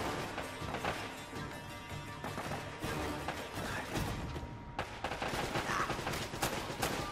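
Rapid bursts of turret gunfire rattle through a shootout in Uncharted: Drake's Fortune, loud and dense, with sharp impacts and crashes layered over sustained automatic firing.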